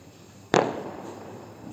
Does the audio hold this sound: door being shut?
no